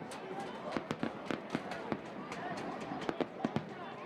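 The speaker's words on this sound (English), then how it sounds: "you can still hear the fireworks sizzling off in the distance across campus here in Blacksburg." Distant fireworks popping and crackling across a college campus in Blacksburg, a scatter of sharp irregular bangs over a low crowd murmur while a voice talks over them.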